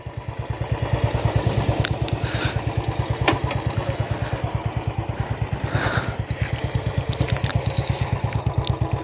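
A Pulsar 220F BS3 and a Bullet 350 BS6 motorcycle idle together before a drag race, a steady, near, thumping low engine pulse running throughout with faint voices and a few brief clicks behind it.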